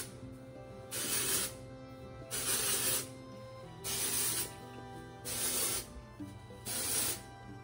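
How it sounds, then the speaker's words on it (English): Dry shampoo, an orange mango scent from Not Your Mother's, sprayed onto hair in five close, even bursts of about a second each, separated by short pauses. "I'm just gonna use a little bit of drying shampoo"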